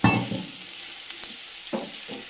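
Bhola fish drops into hot oil in a home kitchen, opening with a loud, bursting sizzle that settles into steady frying hiss, with a couple of stirring scrapes and splashes.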